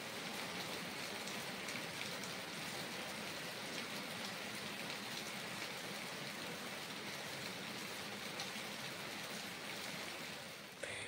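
Heavy monsoon rain pours down outside in a dense, unbroken wash of pattering drops on surfaces, steady and moderately distant for the whole stretch, with no voices.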